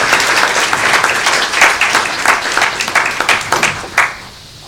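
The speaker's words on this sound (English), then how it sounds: "How about a round of applause to begin?" Audience at a university panel on Illinois finances claps for a presenter, a dense, fairly loud burst of applause that thins out and stops near the end.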